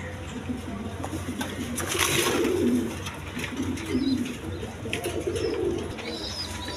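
Pigeons kept for sale, including a female Rajgolla, coo in low, rolling bursts at moderate distance, with a few faint chirps over a steady background hum.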